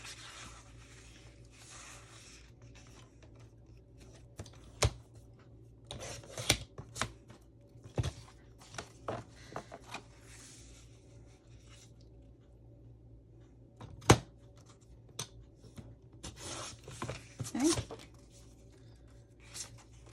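Quiet scissor snips and paper rustles while Christmas wrapping paper is cut for a handmade journal, irregular close crisp cuts with pauses between them.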